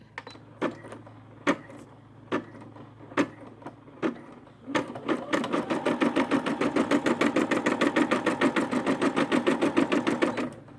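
An embroidery sewing machine stitching a design: a few separate needle strikes at first, then a steady, rapid mechanical stitching rhythm that runs close and loud to the end.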